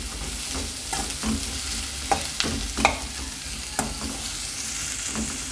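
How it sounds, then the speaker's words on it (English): Chopped onion sautéing in a hot pan, a steady close sizzle broken by the scrape and clack of a spoon stirring at irregular intervals. "saute the onion"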